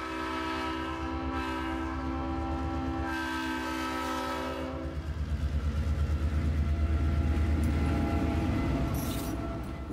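An R.J. Corman freight train horn blares with a steady chord at South Union, Kentucky, then the rumble and rhythmic clatter of passing railcars takes over, loud and close.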